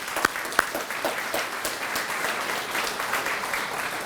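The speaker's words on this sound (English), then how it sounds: "I think it deserves a round of applause." Audience applause for volunteers at a 2019 volunteer awards ceremony, a room of people clapping steadily and evenly for several seconds, with a couple of sharp close claps at the start.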